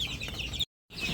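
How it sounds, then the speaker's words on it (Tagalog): Chicks cheep and cluck in their pen. The calls are loud, close and dense, and they stop for a short silent gap before starting again. "Tingnan niyo yung mga butse."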